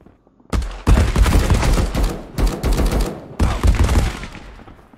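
Sustained automatic fire from a DP machine gun in the Marauders shooter game, loud continuous bursts in three long strings separated by brief pauses, with no talk.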